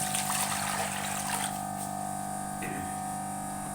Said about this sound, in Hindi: सबसे पहले हम कढ़ाई के अंदर 2 से 3 लीटर पानी,